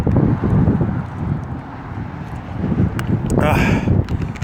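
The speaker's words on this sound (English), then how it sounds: "I know it's super windy today" Low, blustery wind buffets the microphone outdoors on a very windy day in rumbling gusts, with a brief whooshing swell near the end.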